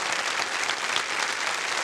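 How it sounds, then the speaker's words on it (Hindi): Studio audience on the game show Kaun Banega Crorepati clapping in a dense, steady burst of applause, loud and continuous with no talk over it. "बहुत जोरदार तालियां बज जाएं इनके लिए।"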